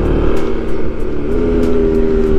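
A Widya bus drives past on a main road, a loud, close engine roar that holds steady throughout with a low rumble and a rising tonal whine, with no talk.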